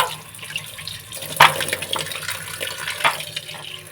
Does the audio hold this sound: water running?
yes